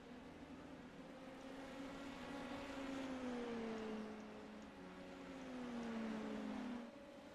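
Race car engines in the iRacing sim, Indy Lights cars running at Long Beach or Phoenix Raceway, heard as a quiet, steady drone whose pitch slowly rises and falls as the cars pass, fading slightly at the end, with no talking.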